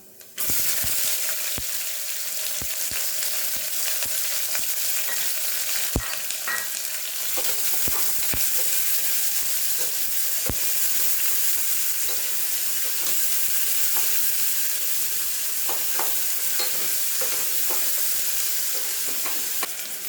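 Chopped onions frying in a pan for a seeraga samba chicken biryani, a loud, constant sizzle broken by clicking scrapes from stirring, with no voices over it.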